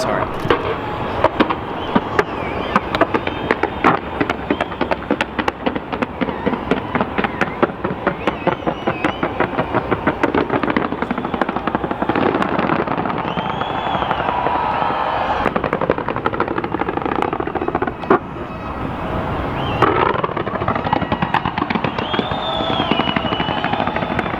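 Rapid crackling bursts and booming explosions of fireworks in Dubai, dense and loud, with people talking and shouting underneath.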